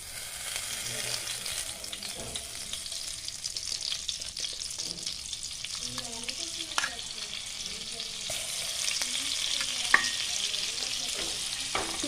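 Butter sizzles in a pan for pav bhaji, a quiet steady crackle with stirring scrapes and small clinks throughout.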